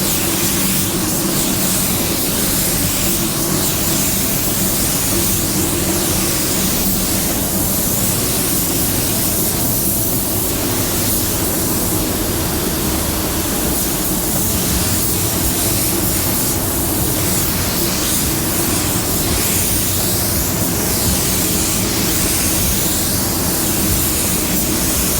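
A spray gun lays base coat paint, producing a continuous, loud, even hiss of atomised paint and air that runs unbroken from start to finish with no voices.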